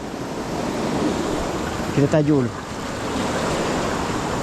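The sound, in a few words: flowing river water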